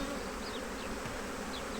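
A continuous close hum of honeybees fills the air at an open hive being reassembled after inspection, with individual insects whining past now and then over the even swarm drone.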